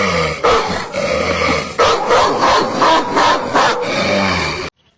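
Dog barking and growling as a comedic sound effect: a continuous loud run of rough, overlapping barks and snarls for several seconds, close and harsh, ending abruptly.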